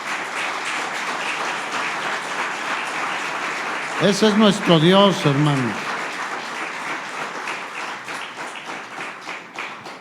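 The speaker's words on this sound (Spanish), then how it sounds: "Dale un aplauso al Señor." Steady applause from a church congregation fills the whole stretch, with a voice briefly speaking Spanish over it partway through.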